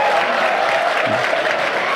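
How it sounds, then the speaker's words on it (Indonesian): Audience applause at a lively Javanese religious sermon gathering, a steady dense wash of clapping from a crowd throughout, with some voices mixed in. "ngono ya tepuk tangan"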